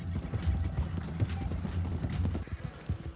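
A horse's hooves clip-clop in a steady, close rhythm in a western open-world game, with faint ambient noise beneath and no speech.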